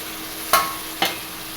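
Tomatoes go into a hot frying pan, followed by two short scrapes of stirring over a faint, steady background sizzle.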